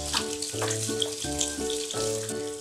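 Century eggs are rinsed under running water to wash off their cure, a steady splashing hiss with tonal music playing underneath.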